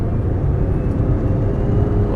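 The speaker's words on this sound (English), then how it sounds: "Love how great that engine sounds." A 2005 Honda Accord EX-L V6 engine while driving, a steady, smooth low hum and road rumble from inside the car, with no talk over it.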